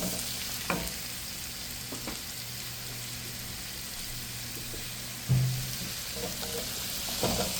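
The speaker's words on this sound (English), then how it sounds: "we're gonna saute everything up with my base that we just created" Carrots sautéing in sesame oil with garlic for fried rice, a steady broadband sizzle with a few louder stirring scrapes and clatters, close and without talk.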